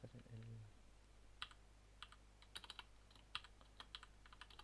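Keys on a new computer keyboard are pressed in sparse, irregular clicks and short bursts of typing, close and quiet, after a brief low murmur at the start.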